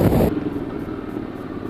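Ducati Hyperstrada motorcycle ridden through San Francisco, a steady engine rumble with wind, louder for a brief moment at the start, then a constant droning run.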